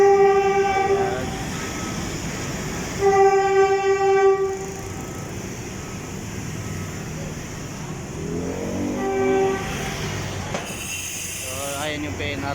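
A Philippine National Railways train passes in Metro Manila, sounding several loud, sustained horn blasts over a rolling rumble, with traffic noise around and a brief voice near the end.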